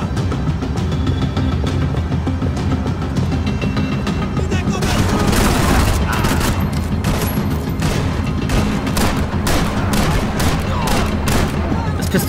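Rapid pistol gunfire in the Max Payne 3 video game, loud dense bursts of shots cracking over a continuous noisy action soundscape, growing more frequent in the second half with no clear talking.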